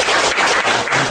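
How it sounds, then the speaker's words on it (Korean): An audience at a public debate forum gives a short burst of close, dense applause, with many hands clapping together and no voices. "그거를 좀 반드시 박수 한번 주십시오"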